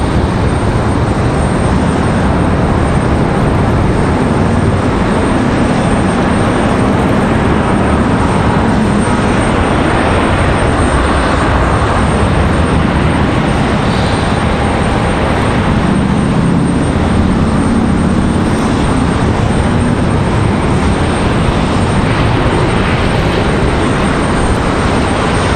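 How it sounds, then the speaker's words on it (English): A JetBlue airliner departs Raleigh-Durham International, its engines a loud, unbroken roar filling the air at constant strength from start to finish, with no voices. "There's our JetBlue departure."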